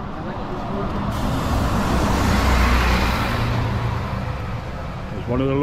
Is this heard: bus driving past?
yes